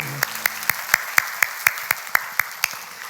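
A church congregation at a Korean worship service claps together in steady unison: about a dozen crisp, evenly spaced beats in a brisk rhythm, close and clear.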